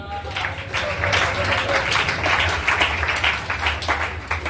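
Congregation at a church conference on entrepreneurship claps and cheers, a loud, dense burst of applause rising quickly and sustained throughout with voices mixed in.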